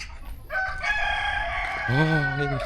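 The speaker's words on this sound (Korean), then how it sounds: "이, 닭놈의 소리 진짜 새벽 4시부터 그래." A rooster crows loudly and close by in the Chinese countryside near Hefei. It gives one long, strained cock-a-doodle-doo that rises and then falls, with rural background noise.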